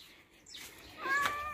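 A pet cat gives a faint, rising meow, brief and somewhat distant, against a quiet indoor background.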